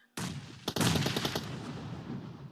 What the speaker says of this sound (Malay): Banyak letupan yang berlaku.